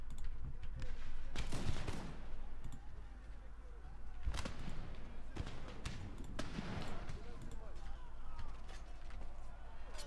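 Musket volleys crackling across a battlefield in Empire Total War, several loud ragged bursts rising over a constant background rumble, with faint battle noise between them.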